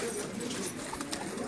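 Pigeons cooing on a rooftop, soft and somewhat distant over a constant background hiss, with a faint voice in the background.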